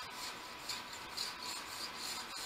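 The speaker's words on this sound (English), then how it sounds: "just run the file across it a few times" A metal file rasps steadily across the edge of a card scraper to strip off the burr, a continuous close grinding scrape in several even passes, alone without any voices.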